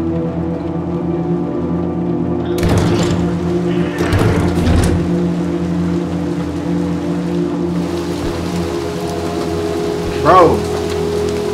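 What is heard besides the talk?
rain falling in video game Little Nightmares 2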